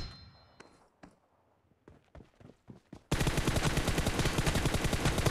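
PUBG mobile gunfire on a Poco X3 at 90 fps: a few scattered, separate shots and metallic hits, then a sudden, loud, sustained stream of rapid automatic fire that continues to the end.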